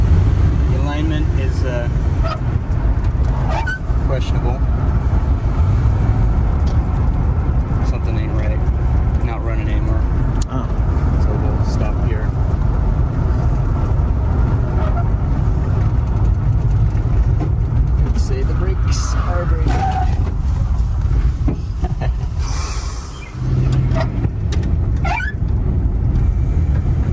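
A 1948 Packard, roadworthy again after fifty years of sitting and with unreliable brakes, rolls along slowly with a low, steady engine rumble and road noise throughout, loud and close, with a person talking over it.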